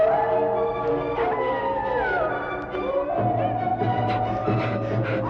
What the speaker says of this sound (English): The howl of a wolf pack on my trail.